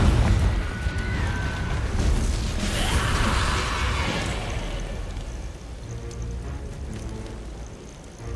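A Confringo fire spell explodes in Hogwarts Legacy, a loud sustained fiery blast that swells and rumbles for several seconds before fading into softer game ambience.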